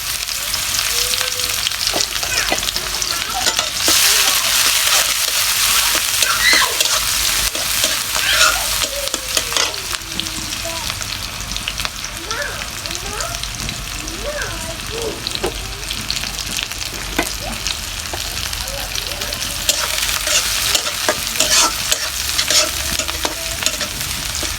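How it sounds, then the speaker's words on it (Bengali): Chopped onion frying and being stirred in a pan, a steady close sizzle with frequent scraping stir strokes throughout, no talking. "এখানে আমি দিয়ে দিলাম পেঁয়াজ কুচি।"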